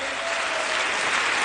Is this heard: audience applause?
yes